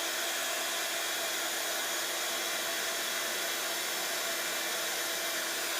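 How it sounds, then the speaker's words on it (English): A heat tool on its higher setting blows hot air onto shrink plastic for a card and jewelry craft, a steady, loud, close whooshing roar that holds unchanged throughout with no speech. "I'm going to do it a bit quicker with the higher heat now"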